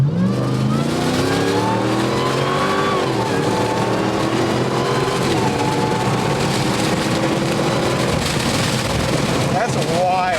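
A modified Jeep accelerates hard on a highway with a loud engine roar that climbs in pitch through several gears and never lets up, with faint voices underneath.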